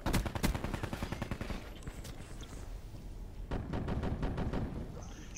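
Rapid automatic gunfire in a battle royale video game on the Alcatraz map, loud bursts of repeated shots at the start, a quieter lull, then another sustained volley near the end.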